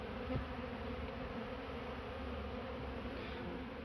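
Honeybees robbing in a bee garden in August: a dense, steady buzzing drone of many bees up close, continuous and fairly loud throughout, with no voices.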